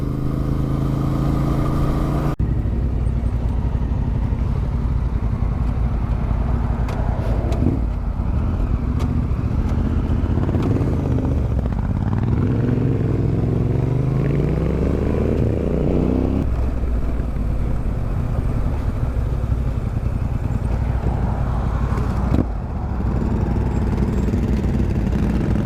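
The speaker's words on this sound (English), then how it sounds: "Gas that big Honda and let it go." A big Honda motorcycle engine roars loudly and continuously, with a rising and falling rev sweep in the middle as the throttle is opened, then settles back to a steady heavy drone.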